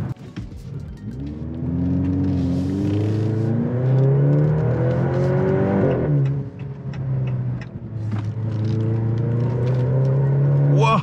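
A 2023 Maserati Grecale Modena SUV with a turbocharged engine accelerates from inside the cabin, its engine note rising through gears with a shift dip midway, then climbing again, steady and fairly loud with tire noise underneath.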